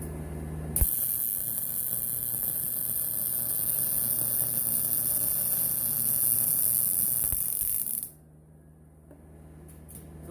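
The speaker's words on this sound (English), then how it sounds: "Now what we're gonna do is we're gonna run a bead down the edge of that bolt" Arc welding runs a bead down the edge of a broken bolt, a loud, steady buzzing hiss lasting about seven seconds before cutting off to a quiet hum.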